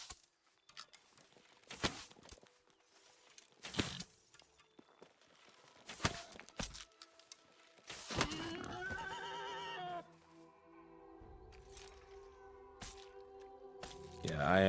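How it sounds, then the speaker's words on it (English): Elk calls in the Pax Dei game ring out as several sharp, high bugling cries at regular intervals, followed by a longer wavering call over a low background hum. "Actually, after playing Red Dead again, I realized it's an elk noise."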